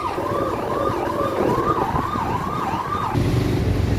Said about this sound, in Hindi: तो पीछे को आ रही है पुलिस की गाड़ी